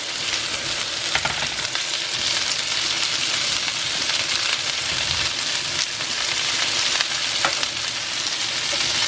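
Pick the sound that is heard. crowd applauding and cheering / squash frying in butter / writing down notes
squash frying in butter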